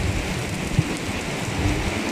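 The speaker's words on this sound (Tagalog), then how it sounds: "Malakas ang hangin, malakas din ang ulan." Heavy rain lashes down with gusting wind on a stormy morning in Abu Dhabi, a steady close hiss of downpour with faint low rumbles underneath and no talking.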